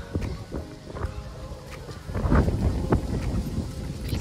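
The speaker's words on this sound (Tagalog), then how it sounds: "Hangin, sobrang hangin lang." Strong, gusty wind rumbles and buffets the microphone outdoors on a Halloween evening in Canada, a steady low roar that swells louder midway, with faint footsteps or movement beneath it.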